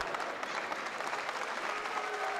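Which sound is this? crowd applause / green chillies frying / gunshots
crowd applause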